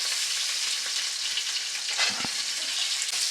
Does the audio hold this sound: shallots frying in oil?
yes